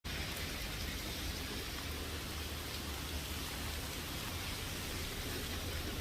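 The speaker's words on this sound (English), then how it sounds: "It's raining here in Philly" Rain falls outdoors in Philadelphia as a steady, dense hiss of drops on surfaces, even and unbroken throughout at a fairly low level, with no voices.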